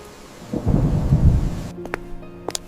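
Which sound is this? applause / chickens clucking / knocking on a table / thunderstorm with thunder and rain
thunderstorm with thunder and rain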